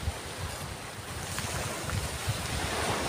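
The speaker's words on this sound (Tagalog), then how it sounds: "Grabe talagang lakas ng alon dito." Strong sea waves off Burias Island churn and wash continuously, with a low rumbling surf and wind buffeting the microphone throughout.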